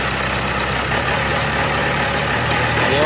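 The diesel engine of a Mitsubishi Strada, a 4N15 MIVEC with low power and heavy smoke, runs as a loud, steady, close-up drone with a low rumble and a faint whine that rises slightly toward the end.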